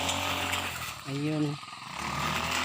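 A grass cutter runs through dry grass in a rice field, its engine droning steadily and fairly loud throughout, dipping briefly while a voice speaks a short word.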